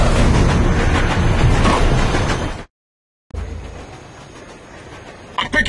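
Hovertrain from the Rogue Trooper video game rumbling steadily and loudly along with a clattering, rushing drone, cutting out briefly to silence before resuming more quietly, with a few sharp knocks at the end.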